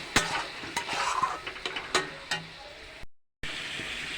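Goat lung curry being stirred in a frying pan, with a steady sizzle and a series of sharp spoon scrapes and knocks against the pan. A short gap of silence falls near the end, then the sizzling resumes.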